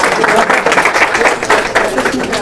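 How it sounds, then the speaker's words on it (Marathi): Loud, steady applause fills a quiz show recorded at a study centre in Beed, a dense crowd clapping continuously after a correct answer, with faint voices beneath. "जोरदार टाळ्या होत्या"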